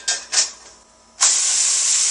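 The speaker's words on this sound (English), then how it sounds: "Now we're cooking steak." Steak hits a hot wok with a loud burst of searing hiss, first as two brief spits and then as a sustained, close, bright sizzle.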